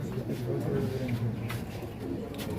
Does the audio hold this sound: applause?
no